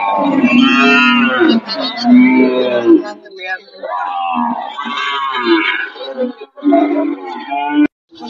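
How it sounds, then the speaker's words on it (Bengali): A Pakistani Sahiwal cow standing with her young calf gives several long, loud, close moos in a row, separated by brief pauses. "যে গাভী দেখাচ্ছে অর্থাৎ বাচ্চা সহ গাভী"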